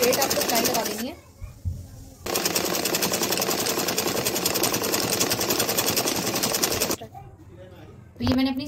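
Sewing machine stitching a straight hem on a sleeve bottom, loud rapid rhythmic clatter running in two long bursts separated by pauses, with a voice briefly heard between them.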